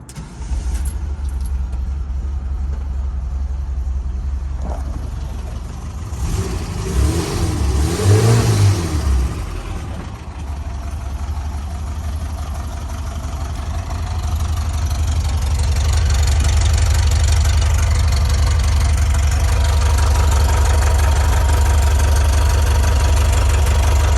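A 1973 VW Westfalia camper van's engine cranks, catches with a brief revving burst, then settles into a steady, loud, close idle that grows fuller over the following seconds, with no one talking.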